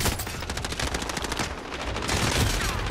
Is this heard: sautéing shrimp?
no